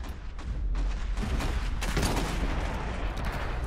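Sustained gunfire from an Iron Harvest battle, dense overlapping bursts and booms rolling continuously at close range with no talk over them.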